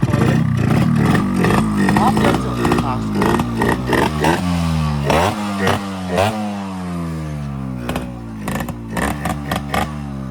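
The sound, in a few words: modified Yamaha RX 135 motorcycle engine started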